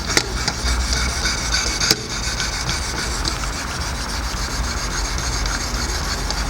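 A reed knife is scrubbed back and forth on Wicked Edge sharpening stones, a steady close rasping rub that runs through the whole stretch with one brief click near the start, and no voices.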